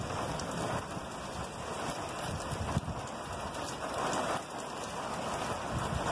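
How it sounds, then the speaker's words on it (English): Steady, dense rain falls during a nighttime lightning storm outdoors, a constant close hiss with no distinct thunder clap standing out and no voices. "nice lightning storm out here tonight for sure"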